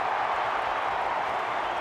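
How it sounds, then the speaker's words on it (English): A rugby league crowd roars at Parramatta Stadium as the Eels' Nathan Hindmarsh makes a break against the Wests Tigers in 2000, a dense, steady, broadband wash of cheering filling the whole stretch. "The crowd love it."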